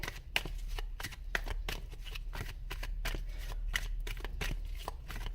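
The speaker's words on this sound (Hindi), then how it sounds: "सो ये वाला डेक मैं यूज करूंगी।" A deck of tarot cards being shuffled, a quick run of crisp riffling flicks and slaps repeating steadily and close up, with no talking over it.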